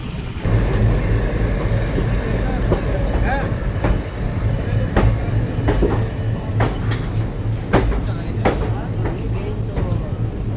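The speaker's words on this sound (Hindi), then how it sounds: "अपनी ट्रेन को जो है अभी लेकर जाया जा रहा है अम्बाला कैंट में" The Kalka-Sainagar Shirdi superfast train rolls toward Ambala Cantt with a loud, steady rumble from inside, sharp rhythmic clacks over rail joints coming faster toward the end, and a voice heard faintly at times.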